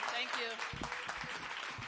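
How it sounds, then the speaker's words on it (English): Applause for a city mayor at a Washington, DC store opening event, a brief burst of crowd clapping mixed with a voice speaking over it. "Let's give our mayor a big round of applause."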